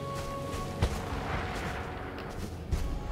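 Bursts of gunfire in the video game Resident Evil 6, sharp shots around the one-second and near-three-second marks over a steady dense backdrop of game sound and a low hum.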